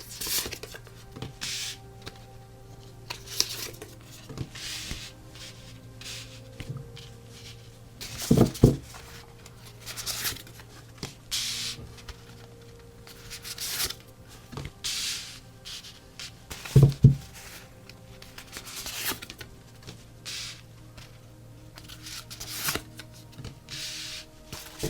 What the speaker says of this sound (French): Je vais sortir toutes les cartes et ensuite on va regarder ce que ça nous dit.